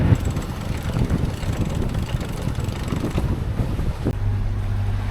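A sailboat under sail off the Turkish coast, with gusty wind roaring over the microphone and water rushing steadily past the hull, loud and continuous without speech.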